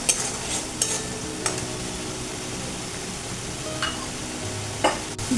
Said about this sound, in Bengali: দিয়ে আমি ভালো করে এটা কষিয়ে নিয়ে আমি জল দিয়ে দেব